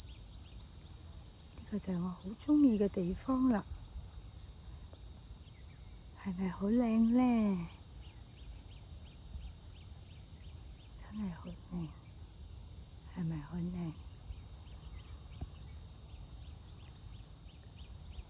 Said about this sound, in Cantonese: 你聽唔聽到啲鳴嘅蟬鳴啊